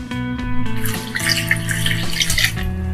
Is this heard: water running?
yes